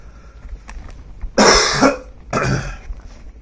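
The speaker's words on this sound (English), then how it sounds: "I've had a cough for a few days." Two harsh, close coughs about a second apart, the first with a rough throat-clearing tail, then quiet.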